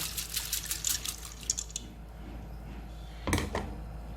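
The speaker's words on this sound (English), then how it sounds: "I'm just going to turn the rice inside this water to cook together." Rice is stirred into hot water in a cooking pot, with soft sloshing and splashing liquid sounds early on, a quieter stretch, then a brief burst of water movement near the end.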